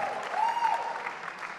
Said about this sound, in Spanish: Un aplauso para nuestros 2 auspiciadores.